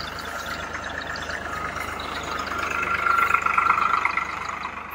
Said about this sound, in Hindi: देखो ट्रैक्टर आ गया